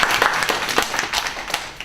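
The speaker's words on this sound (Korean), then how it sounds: "이럴 땐 박수를 한번 주셔야 됩니다" A short spatter of clapping from a conference audience at a presentation skills talk, a handful of hands beating unevenly at close range for under two seconds.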